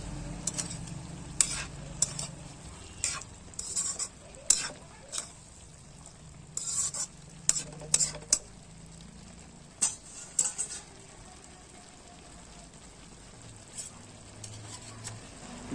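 Vegetables frying in a pan with turmeric and chili for a Chhattisgarhi vegetable dish: a steady soft sizzle under repeated scrapes and metallic clinks of a spoon stirring against the pan, fairly quiet and close, with no talk.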